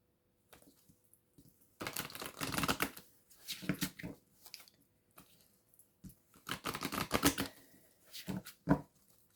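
Oracle cards being drawn and handled, bursts of papery shuffling, riffling and flicking in quick clusters separated by quiet gaps, close and fairly soft.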